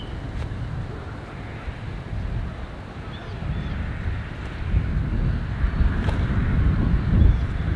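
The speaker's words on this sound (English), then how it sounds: "Holy, the wind is picking up." Strong wind gusts across a disc golf course, a continuous low rumbling buffet against the microphone that swells louder toward the end, with a few faint knocks.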